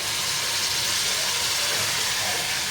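Hot chickpea cooking water hits a pan of frying spices and sends up a loud, steady, rushing hiss of sizzling steam.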